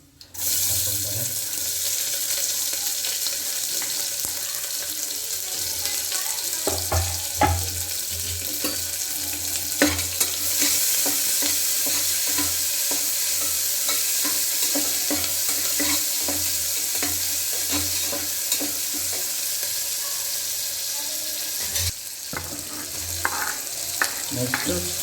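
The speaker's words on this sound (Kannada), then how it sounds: "ಈಗ ಮೊದಲಿಗೆ ಈರುಳ್ಳಿನ ಹಾಕ್ಕೊಳ್ತಾರೆ" Onions frying with dried chillies in a pan as they are stirred, a continuous hissing sizzle with intermittent scraping and clinking strokes, fairly close and loud, without speech.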